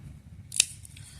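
Leatherman Surge multitool scissors snip once, a single crisp close metallic click over a quiet room, followed by a faint softer click.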